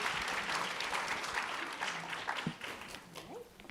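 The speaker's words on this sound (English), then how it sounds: "Continue that applause, please." Audience at a food and agriculture policy summit claps steadily near the end of a session, a dense wash of hands that fades slightly toward the close, with faint voices mixed underneath.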